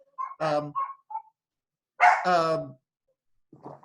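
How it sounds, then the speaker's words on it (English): A dog barks a few times nearby, sharp separate yaps spaced apart with pauses in between. "I apologize for all the dogs barking in the background"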